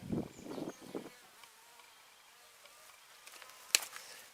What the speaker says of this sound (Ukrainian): навряд чи вони облітати будуть наші бджілки. Бачите, вже є літають.